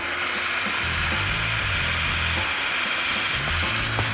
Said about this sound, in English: For an 8-volt handheld tool like this, it's probably better to be categorized as a handheld screwdriver over a drill